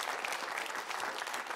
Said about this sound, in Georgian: ტაში არ შევწყვიტოთ